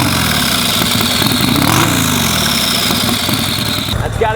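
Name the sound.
turbocharged Harley-Davidson motorcycle engine starting and idling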